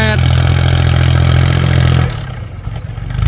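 A Kubota L3608 tractor engine fitted with a loud aftermarket exhaust pipe roars loudly close by with a harsh, throaty exhaust note, then drops to a rougher, lower idle.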